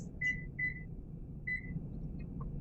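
A few short electronic beeps from an oven, thin and high, sound irregularly over a low steady background hum.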